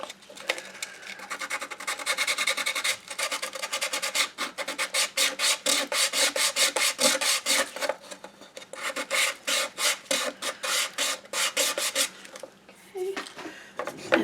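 Sandpaper rubbed back and forth over wood in a crafting project, a steady run of close, even rasping strokes that quicken into rapid rhythmic scrubbing before pausing near the end.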